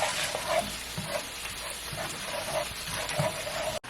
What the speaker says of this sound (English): Now I'm just going to mix it all together.